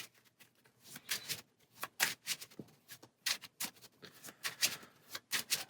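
A deck of cards for the APEX Theropod deck-building game being shuffled at close range, a run of crisp riffling bursts repeating in quick succession with brief pauses between them, no talking.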